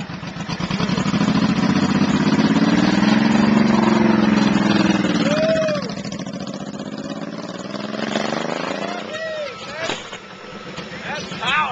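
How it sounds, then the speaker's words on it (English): A big BTX 1800 motorcycle ridden down a street at night gives a loud, steady engine rumble that eases to a lower drone partway through. "We're about to ride this big BTX 1800"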